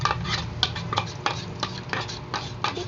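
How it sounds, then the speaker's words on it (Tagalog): Beaten egg mixed with crispy fry goes into a pan. A utensil stirs and taps against the pan in irregular clinks over a faint background sizzle, close by and with no voices. "Lalagay ko na nga po pala yung aking binating itlog na may kasamang crispy fry."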